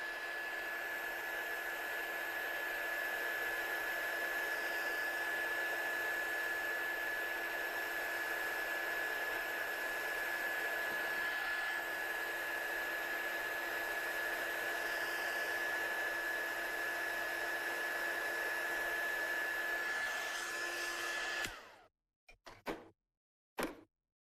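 A heat tool blows steadily to set stamped ink, a constant loud whooshing hum with a faint whine that runs unbroken for about twenty seconds before cutting off, followed by a few brief clicks and knocks; no one speaks.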